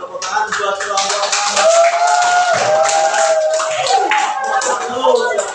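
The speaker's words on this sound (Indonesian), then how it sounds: "Ya sudah, tepuk tangan buat kelompok" Classroom children give a group a round of continuous, busy clapping that runs for several seconds while an adult and children talk over it.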